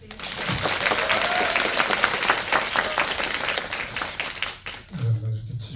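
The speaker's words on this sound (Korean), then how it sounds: "큰 박수 부탁드립니다" Audience at a film screening event applauds loudly for several seconds in a dense, steady wash of clapping with cheers, fading briefly before a voice speaks near the end.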